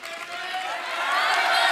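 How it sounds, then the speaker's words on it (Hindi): A studio audience at a comedy talk show breaks into loud, dense applause and cheering that swells steadily and fills the whole moment, close and sustained with no pause. "जोरदार तालियां हो"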